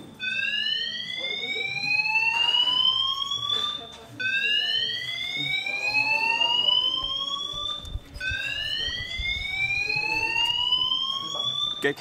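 Fire alarm sounding inside a busy restaurant, its repeating rising electronic sweeps looping steadily every few seconds and staying loud throughout, with diners' chatter and clatter faintly underneath.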